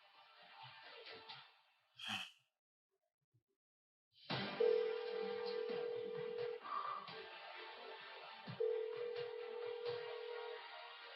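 A telephone call goes unanswered, with a repeating electronic ringback tone sounding in two long, steady bursts over faint background noise.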